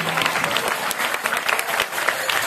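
Audience applause at a school annual prize distribution and cultural program, a dense steady clatter of many hands clapping continuously throughout, fairly loud and close.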